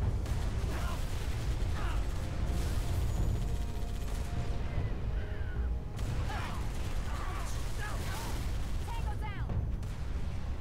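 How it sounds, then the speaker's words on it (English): A tank in Halo 3 ODST grinds through a turn with mechanical whirring, punctuated by booming cannon shots and bursts of gunfire, loud and close, while someone talks over the action. "How quick this tank turns."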